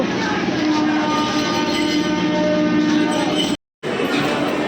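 A train stands at a busy railway platform near a metro connection. A loud, steady rumble of engine and station noise mixes with crowd voices and briefly cuts out near the end.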